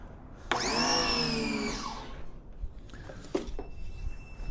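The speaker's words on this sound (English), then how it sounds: "turn my pressure washer back on" A pressure washer starts up with a loud whining motor that runs for over a second, then winds down, followed by brief spurts and water noise nearby.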